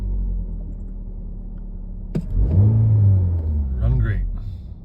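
A car engine cranks and catches after a new throttle body is fitted, giving a sharp click, then a loud low idle rumble that settles into steady running, with a voice speaking briefly over it near the end.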